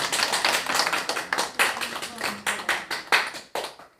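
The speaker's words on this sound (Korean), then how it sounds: "박수 한번 해주세요." A church congregation claps together in a steady burst of rhythmic hand claps, loud and close, lasting a few seconds and trailing off at the end.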